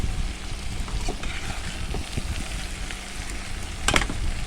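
Okra and potato pieces fry together with spices in a pan for an onion-free dry curry, giving a steady, close sizzle with a few louder pops and crackles along the way.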